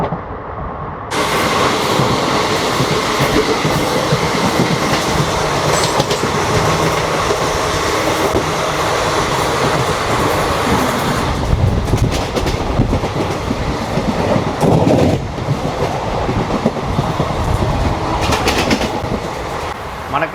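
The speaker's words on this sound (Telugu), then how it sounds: "మనం అయితే కాచిగూడ నుండి మధురై వెళ్ళే సూపర్ ఫాస్ట్ ట్రైన్ అయితే ఓవర్టేక్ చేస్తున్నాము" A superfast express train from Kacheguda to Madurai rumbles loudly and continuously as it overtakes another train, with steady clickety-clack from the wheels, a sudden rush of noise as the neighbouring train passes, and occasional faint squeals.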